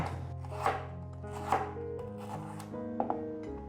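A knife slices celery on a cutting board, giving a handful of spaced, solid thuds, close and clear over a soft, sustained tonal background, with no voices.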